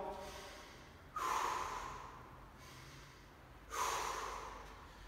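Two heavy, forceful breaths during a high-intensity interval workout, sharp hissing exhales a few seconds apart, close to the microphone over a faint background.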